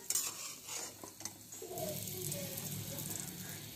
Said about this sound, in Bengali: আলুগুলো ভাজা হয়ে গেছে, এখন আমি আলুগুলো একটা পাত্রে তুলে নিই